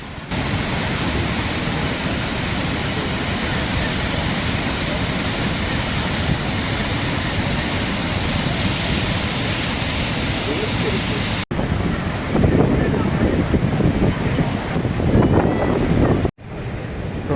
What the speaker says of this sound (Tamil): பாருங்கள் எவ்வளோ ஆக்ரோஷமாக வந்துட்டு இருக்குது தண்ணி